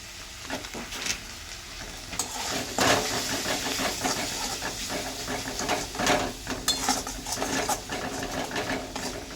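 Turmeric and chilli powder masala sautéed in a hot pan, giving a steady close sizzle with repeated scraping from a spatula stirring through the spices, and no talk.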